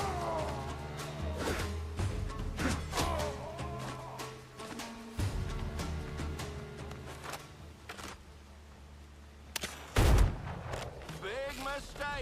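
Gunshots ring out in the Windrose video game as several sharp, irregularly spaced cracks amid game sounds and music, including one louder, heavier blast near the end.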